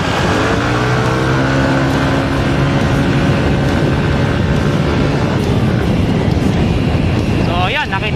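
A Yamaha NMax scooter engine revs hard in S-Mode, a loud steady drone with rising harmonic whine under heavy wind buffeting, swelling into a sharper climb near the end.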